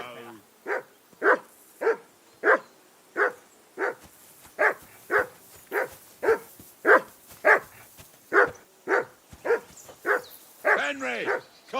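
A dog barks repeatedly in the medieval role-playing game Kingdom Come Deliverance II, about sixteen loud, evenly spaced woofs close by, ending in a whiny yelp.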